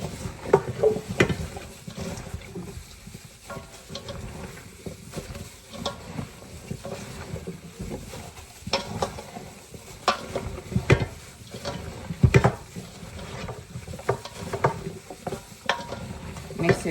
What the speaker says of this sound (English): let me go ahead and mix that in. Mix all those flavors up in there.